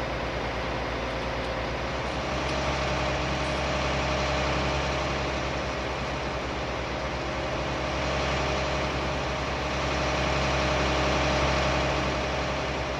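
A tractor engine labors hauling a load up a hill, a loud, steady low drone that holds throughout with slight swells in intensity, heard close with no speech.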